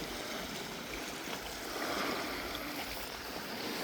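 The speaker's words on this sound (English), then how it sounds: "I love the sound of the ocean." Ocean waves wash steadily at Crescent Beach as a soft, continuous broadband rush of surf, heard faint and distant with no talk.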